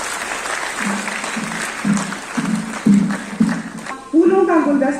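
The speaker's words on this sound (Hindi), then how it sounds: "तालियां रुकनी नहीं चाहिए।" Audience applause at the 68th Cooperative Week inauguration at Teacher Bhawan, Jammu: a continuous patter of clapping with rhythmic thumps, while a voice speaks over it toward the end.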